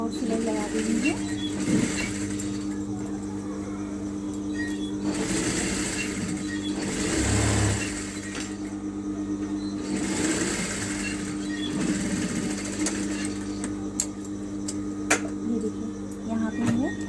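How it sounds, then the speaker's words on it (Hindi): A sewing machine stitches a blouse sleeve in steady, whirring runs that stop and start, under someone speaking Hindi nearby. "यहाँ पे हमें 6 इंच पे भी सिलाई लगा देनी है।"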